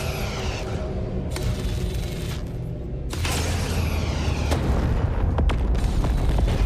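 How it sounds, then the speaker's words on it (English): A starship blows apart in a Star Trek: Voyager – Across The Unknown battle against Kazon ships, a dense rumbling boom and crackling debris with sharp bursts layered over continuous game noise and no talk. "Hey, we blew it up."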